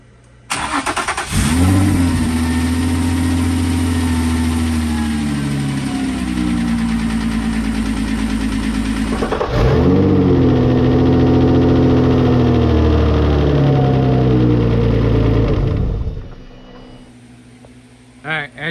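A freshly rebuilt car engine cranks, catches and runs steadily at a loud, close idle, with a brief dip and restart partway before shutting off near the end.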